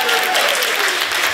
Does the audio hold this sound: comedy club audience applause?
yes